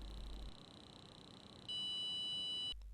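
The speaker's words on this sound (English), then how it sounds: "you will hear the long beep" A SCENAR sport D therapy device hums a high electronic tone quietly, then shifts into a longer, brighter beep lasting about a second before cutting off.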